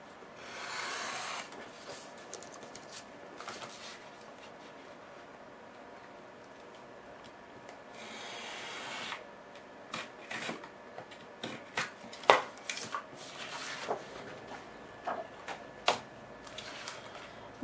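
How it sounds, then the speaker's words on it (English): Scissors snip and rasp through the paper of a vintage journal page while a border is trimmed around it, heard as close, intermittent cuts and rubbing with bursts of friction noise and quieter pauses. "I'm just going to cut a bit of a border around"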